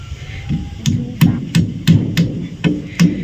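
Repeated hammer blows driving mushroom-head nails into corrugated metal roofing sheets, about eight sharp, evenly spaced strikes close by with a steady low background hum and no talk.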